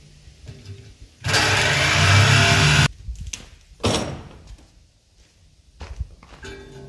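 Sawzall reciprocating saw cutting off a part during a deer feeder rebuild: a loud, dense burst lasting under two seconds, followed by scattered knocks and clunks.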